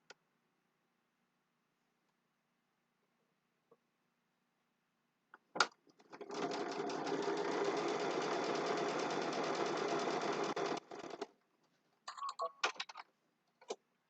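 Sewing machine stitching a fabric quilt block runs in one steady, fast mechanical burst of about five seconds in an otherwise quiet room, followed by a few brief clicks and handling sounds.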